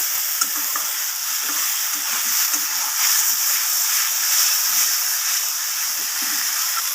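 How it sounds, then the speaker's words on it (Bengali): Long-cut eggplant pieces sizzle and hiss steadily in a hot pan with spices while being stirred, a dense continuous frying sound with faint scraping underneath, close and without talk. "দিয়ে মশলার সাথে বেগুনগুলোকে একটু কষিয়ে নেব"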